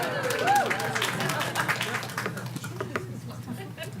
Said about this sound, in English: She got a larger clap,